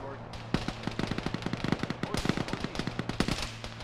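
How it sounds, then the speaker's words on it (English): An anti-aircraft gun fires from a town in the military game Arma, rapid rhythmic bursts of shots, fairly loud and sustained over a few seconds, with faint voices around. "the AA gun that was firing at us from the town"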